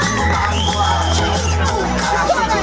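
Crowd at a children's show at Olympia in Brno cheers and claps loudly over booming show music, with whoops and general hubbub blending into a thick, close wall of noise.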